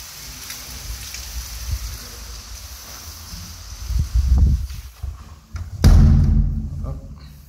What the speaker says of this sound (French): Vous voyez, il pleut bien.